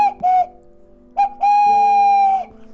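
A wooden cuckoo-owl whistle toy, handmade in the Vosges, gives two close, clear hooting notes. The first is short. After a pause a longer, steady note follows, with a lower tone joining underneath.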